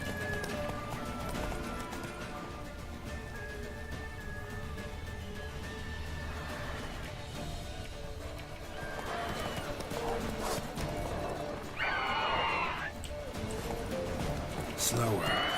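A horse in The Witcher 3 gallops with rhythmic hoofbeats and lets out a neigh near the end, with game ambience underneath.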